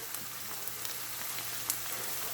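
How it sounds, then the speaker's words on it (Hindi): Onions frying lightly in a pan for a Mughlai chicken handi, giving a soft, steady sizzle with faint crackles throughout, heard alone at low level. "बस इतना हम प्याज को फ्राई करेंगे, जस्ट ओनली थोड़ा सा।"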